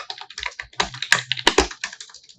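Close, crisp keystrokes on a computer keyboard as code is typed, an irregular burst of quick clicks and clacks with a few heavier key strikes, no talking.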